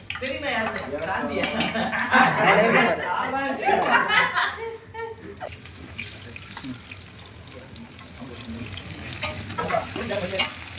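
Onion and cardamom fry in hot oil for biryani with a constant bright sizzle, while a stirring spoon clinks against the pot and people talk over it.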